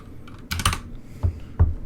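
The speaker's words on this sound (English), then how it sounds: "I'm actually not even going to look at the keyboard." Keys clatter on a computer keyboard in a few quick bursts of typing, close and crisp, with short pauses between the strokes.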